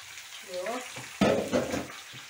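Meat sizzles and crackles in a hot pan, with stirring and scraping noises layered over a steady frying hiss, close by.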